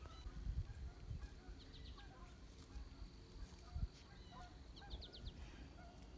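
Geese honk in scattered short bursts at a distance over a farm, faint calls coming in small clusters against quiet outdoor background noise with low thumps, and no one speaking.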